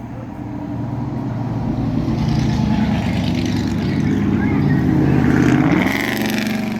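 Loud car mufflers roar past outside an old country store and family home in Chatsworth, Georgia, a heavy, sustained engine rumble that swells and builds toward the end before easing off.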